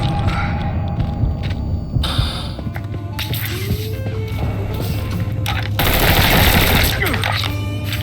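Machine gun fire in the Mafia III Definitive Edition video game, loud dense bursts of gunfire layered over a continuous background of game sound, intensifying toward the end.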